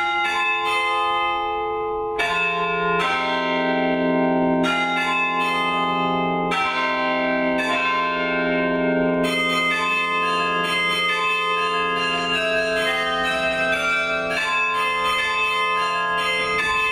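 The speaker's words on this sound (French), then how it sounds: "c'est la chambre où sont toutes les cloches, les 62 cloches du carillon" Carillon bells in a church tower in Tourcoing ring out close and loud, successive struck tones layering into a rich ringing melody that sustains through the whole passage.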